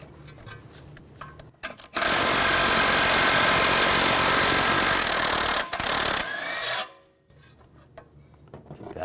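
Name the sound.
removing nut with 21mm socket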